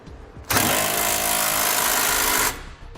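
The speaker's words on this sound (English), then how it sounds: "we'll go ahead and tighten everything down" Impact tool tightening trailer hitch bolts on a 2017 Chevrolet Silverado, a single loud, close, continuous buzzing rattle lasting about two seconds with abrupt start and stop.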